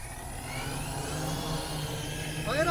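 VTOL drone motors spinning up for a manual takeoff, a steady mid-pitched whir and hum that holds throughout and swells slightly louder near the end as they rev.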